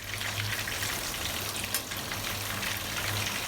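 Chicken fries in oil with a dense, even hiss of sizzling that stays close and steady throughout the short stretch, with no voices over it.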